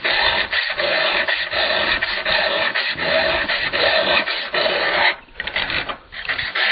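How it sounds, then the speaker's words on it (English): A hand file drawn in full-length strokes across a chainsaw chain cutter, giving a loud, close, continuous rasping with a brief pause near the end before the strokes resume. "passing the file through, using the full length of the file until I've got a nice clean edge in between the file and the cutter"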